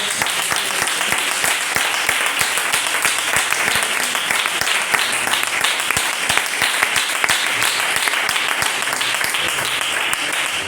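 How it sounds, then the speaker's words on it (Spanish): A church congregation applauds continuously and loudly, dense clapping filling the whole stretch without pause. "¿Le puedes dar un aplauso a Dios?"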